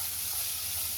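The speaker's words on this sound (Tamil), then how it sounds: "ஆட் பண்ணி நல்லா வதக்கி கொடுத்துருங்களா" Onions sizzling as they are sautéed in a pan for potato masala, a steady, bright, even hiss of frying without pause, close and loud with no voices.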